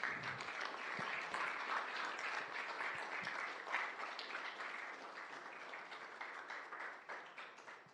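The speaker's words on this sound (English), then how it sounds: "So we should give Mr. Anthony a round of applause" An audience at a Korean War veterans recognition ceremony in South Windsor gives sustained applause to a Bronze Star recipient, a thick continuous clatter of many hands that holds steady and eases slightly toward the end.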